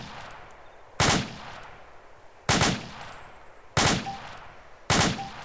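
M4A1 rifle in DayZ firing four sharp, loud separate bursts at steady intervals of about a second and a half, each cracking shot fading into a brief tail before the next.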